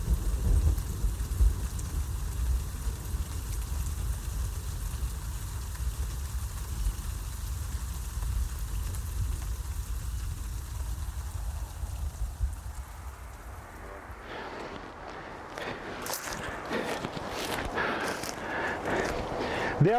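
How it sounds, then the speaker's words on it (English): Steady rain and rumbling thunder in an ancient place in Cyprus, a dense wash of falling water with low rolling rumble, then sharper patters and splashes of closer drops toward the end, no voices. "now we have a wonderful thunderstorm in this beautiful ancient place"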